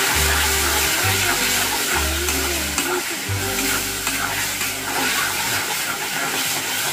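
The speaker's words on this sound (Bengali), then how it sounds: "এটা আমি 3টে মিডিয়াম সাইজের পেঁয়াজ দিয়েছি। ভালোভাবে এটা কষিয়ে নিতে হবে।" Three medium onions frying and being stirred in a pan for an egg omelette curry, a loud broad sizzle with a steady low hum running beneath and occasional scraping, heard up close with nobody talking.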